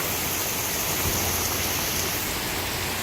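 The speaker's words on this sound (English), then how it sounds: "And yeah, we are still getting hail." Hail and heavy rain pour down in a loud, dense, unbroken hiss of falling water and pelting ice, close and steady throughout with no voices.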